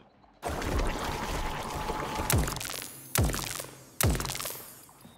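In the video game Atomic Heart, a polymer jet pours out in a steady, loud gushing stream for several seconds, broken by three heavy thunks.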